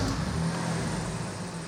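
A single-turbo Toyota Supra with stock silenced exhaust idles and gives a small rev inside an echoey garage, a steady, loud, muffled engine drone with no voices.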